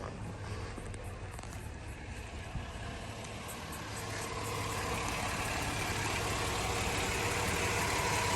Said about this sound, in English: Six-cylinder boxer motor, running nicely.